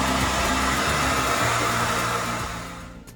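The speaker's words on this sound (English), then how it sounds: "I am vacuuming Duraflame walls." A vacuum cleaner running steadily and loudly close by as it cleans walls, its constant broadband whine holding level before tapering off near the end.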